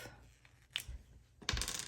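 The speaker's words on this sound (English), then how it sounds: "So now we are going to roll the dice for this next time" Several dice tumble and clatter onto a hard surface during a budgeting cash-envelope session, a short rattle midway followed by a louder burst of rolling clicks near the end, with no talking.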